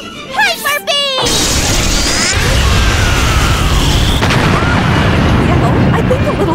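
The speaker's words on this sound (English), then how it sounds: "Purugly, Hyper Beam!" Purugly's Hyper Beam blast in the Pokémon anime, a loud explosive roar that erupts after a short burst of voices and sustains as a dense, rumbling wash with whooshing streaks layered over it.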